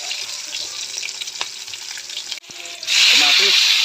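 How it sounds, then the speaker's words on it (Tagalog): Onion, garlic and meat sauté in a pan with a continuous close sizzle and light stirring, and the frying swells louder near the end. "Sasarap natin to kasi magigisa na ako mga rekado."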